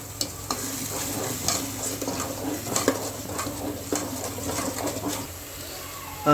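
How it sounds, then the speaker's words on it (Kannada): A spoon steadily stirs simmering fish curry masala in a pan, with a continuous sizzle and rhythmic scraping, close and alone with no talking. "ಈಗ ಇದನ್ನು ಒಂದು ಸತಿ ತಿರ್ಸ್ಕೊಳ್ಳೋಣ ಫ್ರೆಂಡ್ಸ್."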